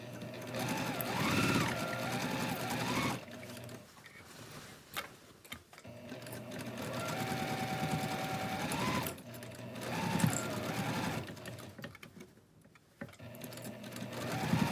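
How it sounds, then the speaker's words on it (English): Sewing machine stitching a quilt border, its steady mechanical whir running in two long bursts separated by short pauses with faint handling noise in between. "you'll have less seams flipping over while you're sewing"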